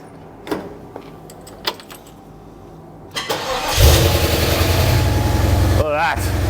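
A 1954 FJ Holden engine cranks briefly after some clicks and key jingles, catches and settles into a loud, steady, close idle with a rough low throb, a light throttle blip near the end.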